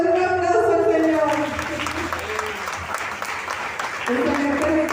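A church congregation claps in praise, a dense wash of applause that swells and holds while a voice speaks over it at the start and again near the end.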